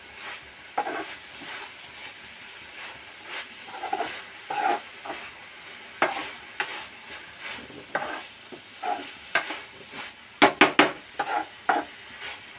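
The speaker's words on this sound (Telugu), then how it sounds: "ఈ అంతా డ్రైగా అయ్యే వరకు మనం ఫ్రై చేసుకోవాలి" Ivy gourd (tindora) frying in a pan, with a faint sizzle under repeated stirring scrapes and spoon clinks that come at irregular intervals, close and moderately loud, with no talk.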